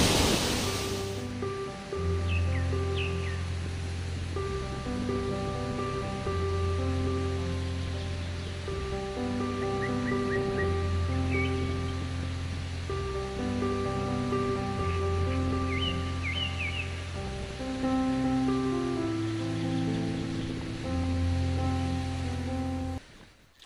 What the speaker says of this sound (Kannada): ಈ ಥರ ಫಾಲ್ಸ್ ನಿಜವಾಗ್ಲೂ ಎಲ್ಲೂ ನೋಡಿರಲ್ಲ ಇದು ಡೈಮಂಡ್ ಫಾಲ್ಸ್ ಅಂತ ಕರೀತಾರೆ